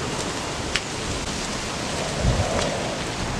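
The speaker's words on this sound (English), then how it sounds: "It's kind of raining." Light rain falls outdoors near Sunset Beach, a steady soft hiss throughout with a few faint dull thumps, no one speaking.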